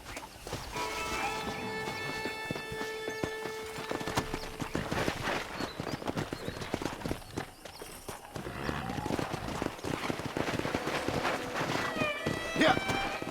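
Horse hooves clip-clop in the Red Dead Redemption video game, a steady rhythmic patter of hoofbeats mixed with game sounds and a brief whinny, while people talk over it throughout.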